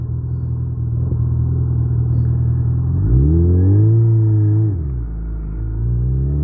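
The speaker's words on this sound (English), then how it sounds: "we're just going through a ride through the neighborhood, just for a bike ride because it's warm out" A motorcycle engine hums steadily as the bike rides through a Michigan neighborhood in winter. Midway it rises into a smooth rev, then settles back to an even, close drone.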